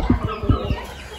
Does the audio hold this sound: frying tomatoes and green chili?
no